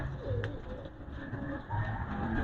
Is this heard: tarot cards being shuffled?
no